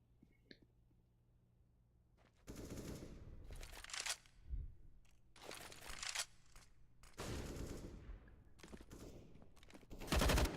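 Gunfire bursts in a Counter-Strike: Global Offensive match on Mirage, several loud clustered volleys spread across the clip, with quieter gaps between them and a sharp final burst at the end.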